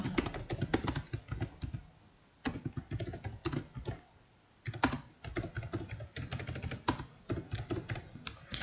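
Rapid keystrokes on a computer keyboard while entering form data from a table into Rewizor GT accounting software, steady clattering bursts separated by two short pauses, close and clear with no talk.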